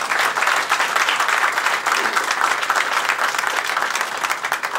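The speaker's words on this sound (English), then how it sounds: "So let's give them a round of applause as well." A grand-opening audience at Dulles applauds, many hands clapping steadily in a loud, even wash that holds for several seconds and fades slightly at the close.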